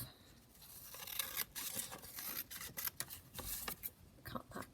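Paper being cut for a junk journal made from an altered book, close, quiet scissor snips and rustling paper handling in a repeated, irregular rhythm.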